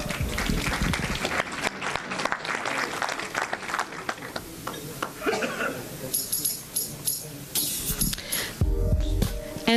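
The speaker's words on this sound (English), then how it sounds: "Let's give a round of applause to all of the chapters." Audience clapping at an alumni homecoming banquet, dense applause that rises and thins in waves, with crowd voices and some cheering mixed in, and music entering near the end.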